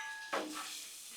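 Sausage frying in a little oil on a Blackstone griddle, a soft steady sizzle with a brief louder burst of hiss near the start, then settling to an even crackle.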